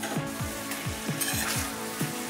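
Chicken fries in a pan with a close, continuous sizzle broken by a regular series of short popping spurts, fairly loud, with no one speaking.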